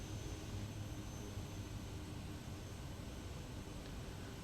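Kodiak 100 aircraft engine in a flight-simulator game, throttled back near low idle with flaps set for takeoff, giving a steady, loud, unbroken broadband roar with a low drone and no pauses or talking.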